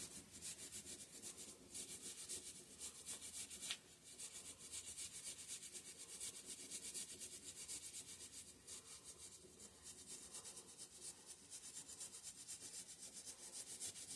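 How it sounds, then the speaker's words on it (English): A dirty outer cover from a 5hp Briggs and Stratton engine with gear reduction is scrubbed, giving a steady, close, continuous brushing and rubbing hiss that runs the whole time with no talking. "I'm just going to give this cover, the outside of it, a little scrub, because it's pretty filthy."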